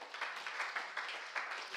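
A church congregation claps in a short, rhythmic burst of several quick claps, faint and a little distant, with no talk over it.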